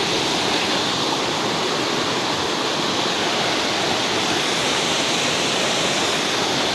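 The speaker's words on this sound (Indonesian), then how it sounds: "jadi ini air terjun" Steady, full-band rush of a small waterfall at Curug Lawe, Ungaran, constant and close, with no voices or breaks throughout.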